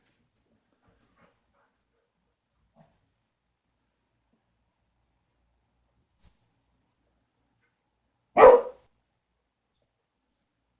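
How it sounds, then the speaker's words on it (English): A single short dog bark rings out in otherwise near silence, preceded by a couple of faint clicks. "he never normally barks that long"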